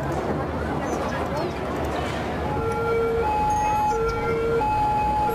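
Police car siren in the Cities Skylines city-building game, a steady wailing tone rising out of dense traffic noise midway through and repeating in long held notes, moderately loud over the city bustle.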